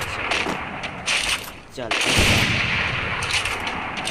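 Rapid bursts of gunfire from an AWM sniper rifle and an MP5 in a one-versus-one video game match, loud and close, with a short pause before firing resumes and a voice speaking briefly.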